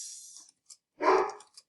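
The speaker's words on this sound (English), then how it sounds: "That's my dog. There's someone at the door." A single dog barks sharply indoors, one short loud woof set against near silence, with a few faint clicks and a brief hiss around it.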